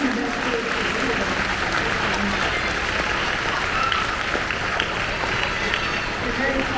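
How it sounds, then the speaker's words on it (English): An auditorium audience claps steadily for teachers at an event, with dense, continuous applause at a moderate level and speech mixed in. "Let's give a big round of applause for our teachers."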